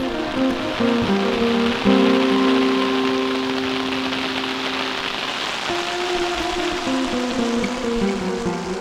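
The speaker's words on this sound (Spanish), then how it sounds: "tras unos 20 días de sequía, llegó la lluvia" Steady rain falling on a forest with amphibians after about twenty days of drought, a dense continuous hiss of drops with a sustained tonal chorus running underneath, loud and enveloping throughout.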